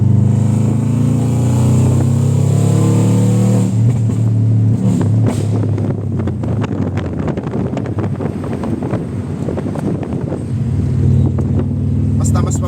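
Tuned Ford Fiesta Mk7 with ECU tune and aftermarket headers, engine revving loudly and steadily in second gear, a rough growl swelling and falling with a few sharp bursts, close by with wind buffeting the microphone.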